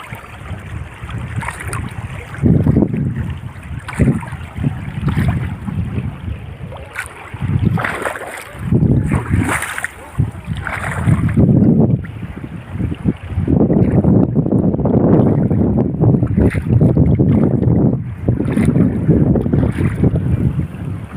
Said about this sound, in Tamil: அங்கே பாருங்கள் இவ்வளோ வேகத்துக்கு போகுது தண்ணி